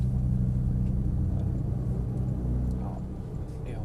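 A Porsche Cayman S creeps along at walking pace on a circuit at Dreux, its engine a low, steady rumble that eases slightly toward the end.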